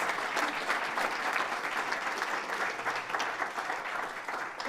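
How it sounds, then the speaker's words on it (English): Steady applause from a crowd, continuous clapping that holds at an even level for several seconds with no voices over it. "Round of applause."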